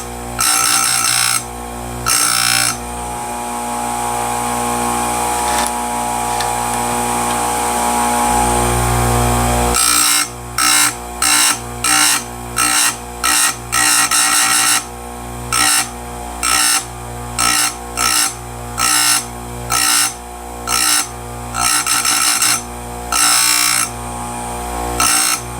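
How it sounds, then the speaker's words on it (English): A Stihl USG grinder sharpens a damaged chainsaw chain, its steady high whine running loud for about ten seconds before breaking into a rapid series of short grinding bursts, one per cutter, with brief gaps between. "I'm taking the wheel as deep into the gullet as I dare without touching the drive link or a tie strap"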